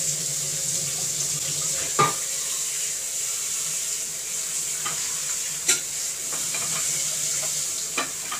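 Hot tap water runs in a steady, even rush while something is rinsed in a home kitchen during baking, with a few faint clinks heard over the stream.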